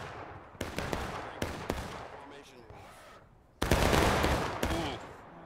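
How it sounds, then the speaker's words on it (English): Musket volleys crack out in War of Rights, a Civil War battle game with 250 players: several sharp broadband reports around the first two seconds, then a louder, dense ragged volley that rolls on for about a second and fades. "another tough volley from KB"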